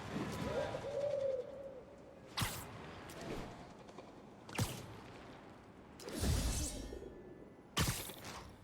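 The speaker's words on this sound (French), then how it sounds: "Ce pigeon connaît mieux la ville que moi!" A city pigeon coos softly in a low, throaty burst near the start, followed by several sharp whooshing flutters of wings spaced a couple of seconds apart.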